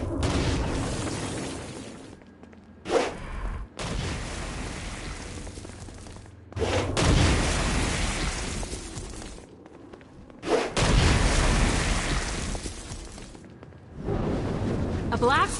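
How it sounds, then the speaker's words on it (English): Stone Blast explosions in the video game Saints Row: Gat out of Hell, a series of loud booming bursts separated by short quiet gaps, each blast roaring and decaying before the next, with game dialogue between them. "Stone Blast is especially useful on flying demons like this one"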